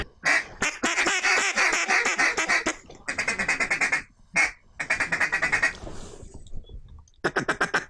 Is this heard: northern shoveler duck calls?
yes